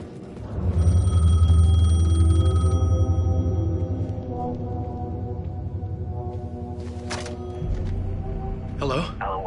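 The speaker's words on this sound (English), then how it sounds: "The payphone was ringing." A payphone rings in the video game Alan Wake 2, a sustained electronic ring under a low droning ambience that fades out, followed by scattered clicks and handling noises.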